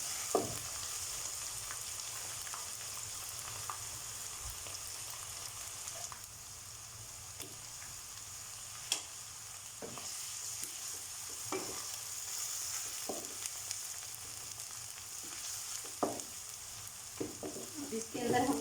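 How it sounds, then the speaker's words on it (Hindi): Ginger and garlic fry in oil with lightly browned onion in a pan for aloo keema, a soft continuous sizzle broken by occasional scraping stirs, fairly quiet and close. "लहसुन अदरक डाल के उसको थोड़ी देर भून के"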